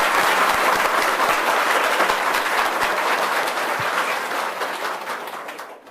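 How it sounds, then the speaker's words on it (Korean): Sustained applause from a large congregation giving thanks at a religious gathering, dense and steady throughout before fading slightly toward the end. "우리 모두 감사의 박수를 올리지 않으시겠습니까?"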